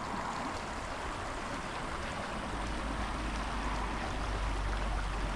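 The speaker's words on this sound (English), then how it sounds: "That's a pretty little creek." A clear creek in Hermit Valley in the Sierra flows steadily with a soft, continuous rushing wash, close by and unbroken, with no voices.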